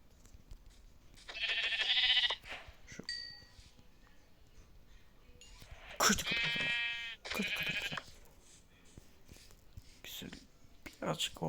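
Minecraft sheep bleat repeatedly in bursts, a few loud close calls separated by quieter gaps, with game-like clinks and a voice now and then.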